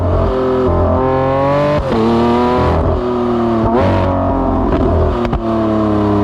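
A Lamborghini Aventador SVJ accelerates on the road, its loud engine note climbing in pitch through repeated pulls, with sharp breaks at each gear shift.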